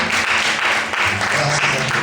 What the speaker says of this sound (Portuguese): Você pode aplaudir o Senhor com alegria.